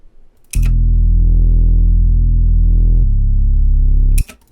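Bass line in an ambient RnB beat, run through a Decapitator saturation plugin for added crunch: a thick, sustained, distorted low tone that holds one note, then shifts to a second note, playing alone with no talk.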